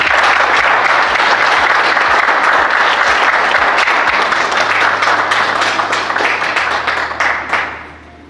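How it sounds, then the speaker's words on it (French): A crowd at a cryptocurrency launch event applauds loudly and steadily, a thick roar of clapping that holds for several seconds before fading out at the end. "j'introduis sous vos acclamations"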